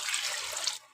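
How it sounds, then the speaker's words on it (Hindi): Water is poured into a pressure cooker holding salted beef for a brief, close, hissing splash that lasts under a second and then stops abruptly. "अब इसमें मैंने नमक ऐड करना है और मैं इसमें पानी ऐड कर दूँगी।"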